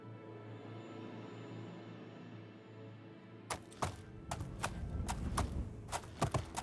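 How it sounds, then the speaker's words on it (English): Horse hooves in the video game Oblivion: after a quiet ambient stretch, a run of sharp, irregular hoofbeats starts partway through and carries on loudly to the end. "There's my horse. Unmercifully spawned in front of us. Alright, party, let's ride."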